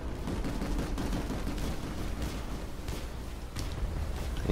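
Rapid gunfire rattles through a Planetside 2 firefight, a continuous barrage of overlapping shots and bursts at close range with no talking.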